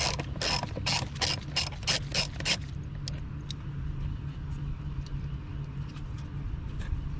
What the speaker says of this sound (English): This screw needs to be loosened.